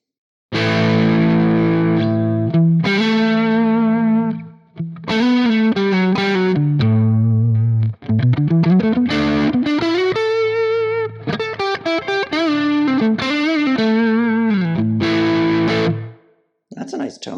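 Electric guitar through a Neural DSP Nano Cortex amp modeler, with distorted chords and single-note phrases played in bursts, including a few bends and short pauses, ending on a sustained chord.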